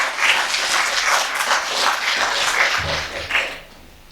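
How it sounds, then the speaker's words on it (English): A studio audience at a community television talk show applauds to welcome a guest, with sustained, fairly close clapping that fades near the end. "Let's welcome Dr. Qusay with a round of applause."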